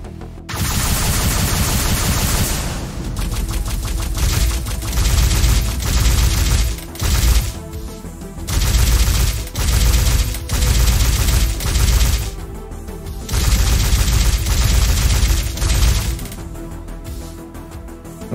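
Loud sustained gunfire from the video game Silverwing, rapid automatic bursts with booming impacts, pausing briefly several times before starting again.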